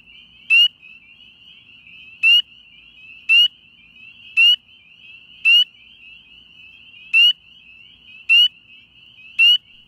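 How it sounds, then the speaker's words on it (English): Spring peeper frogs give loud, sharp, high peeps one at a time, about eight in all, spaced irregularly against a near-silent background. "So if you're looking for spring peepers, here's the sound and movement that you should look out for."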